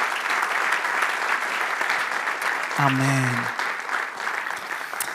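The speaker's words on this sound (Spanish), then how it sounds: "Le damos un aplauso al Señor." A church congregation applauds steadily at a Spanish-language worship service, dense continuous clapping while a voice briefly speaks over it midway.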